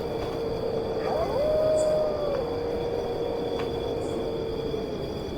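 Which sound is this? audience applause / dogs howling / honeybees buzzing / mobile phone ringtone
dogs howling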